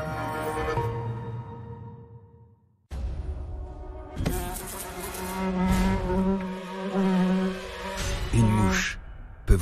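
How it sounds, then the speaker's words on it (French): Housefly buzzing in a French radio advert, a close, wavering insect drone that cuts out for a moment, then returns louder with swooping pitch changes and rattling bursts. "Une mouche peut vous coûter vos nerfs."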